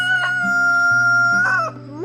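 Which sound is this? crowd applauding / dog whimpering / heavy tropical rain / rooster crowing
rooster crowing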